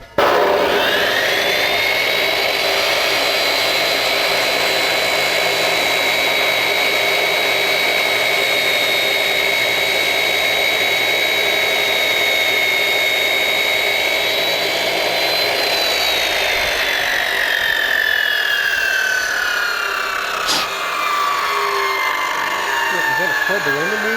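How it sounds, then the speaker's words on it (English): Chop saw with a metal cutting wheel grinding slowly through metal: a loud, sustained high whine with a steady pitch that holds for about fifteen seconds, then slides downward as the wheel spins down. "I'm going to cut it on our chop saw"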